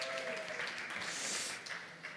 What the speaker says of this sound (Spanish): ¡Un aplauso por Bielsa!